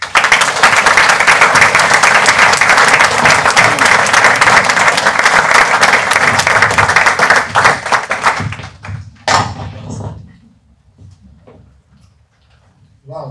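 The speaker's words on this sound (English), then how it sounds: "Please help me welcome Peter Bentley." Loud, dense audience applause welcoming a speaker at a talk, sustained clapping from a large crowd that tapers off and dies away after about ten seconds.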